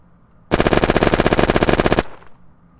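A Bulldog machine gun in Unturned fires one sustained burst of rapid, evenly spaced shots lasting about a second and a half. The burst is loud and close and stops abruptly, leaving a short decaying tail.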